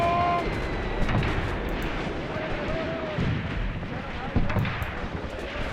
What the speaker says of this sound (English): Another grenade hit there.